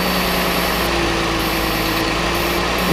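A 2009 Volkswagen Touareg 3.6L engine idles with a vacuum leak and a lean condition, giving a steady, even engine hum under a constant airy hiss that never changes throughout.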